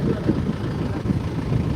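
A tractor plowing a farm field runs with a continuous low, rumbling engine drone, steady and fairly loud without pauses.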